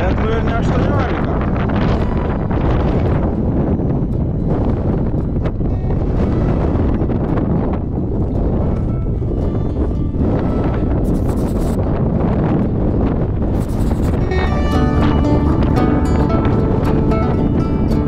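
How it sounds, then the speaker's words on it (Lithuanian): Strong wind buffets the microphone without a break on an exposed volcanic slope, a loud, steady roar and rumble with gusty surges throughout. "Nu ir vėjukas."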